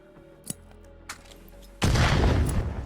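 Gunfire and a grenade explosion in the Contractors video game: two faint, distant shots come first, then a loud, broad blast erupts and rumbles on without fading.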